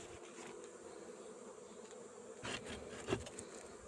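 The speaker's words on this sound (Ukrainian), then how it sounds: "Бжоли путаються поки що трошки. Ну, видно ж буде. Літають, літають, ну нічого." Bees flying around a newly settled reed hive, a continuous close buzzing drone with a few louder passes as individual bees fly near, outdoors with no voices.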